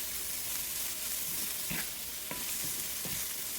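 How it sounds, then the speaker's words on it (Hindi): Vegetables seasoned with black pepper powder and salt stir-fry in a pan for Hakka noodles, a steady sizzle broken by a few sharp scrapes of a spatula, close and alone with no talk. "इसे अच्छे से मिक्स कर लेंगे इन सब्जियों के साथ में।"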